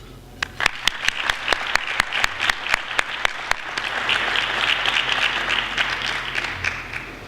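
An audience at an evening talk breaks into applause, starting with a few sharp, distinct claps that quickly swell into a sustained, even wash of clapping with no voices.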